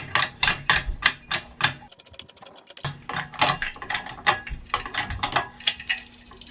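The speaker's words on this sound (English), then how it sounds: "start cranking the handle, and start driving this guy down" A 10-ton Strongway desktop hydraulic shop press is pumped by its handle, giving a steady run of loud, close ratcheting clicks and mechanical clunks in even strokes, with a brief pause partway through.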